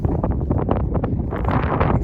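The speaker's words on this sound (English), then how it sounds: "Sorry about the wind." Gusty wind buffets the microphone outdoors in a hazelnut orchard on a farm, a steady loud rumbling roar with rustling bursts throughout and no talking.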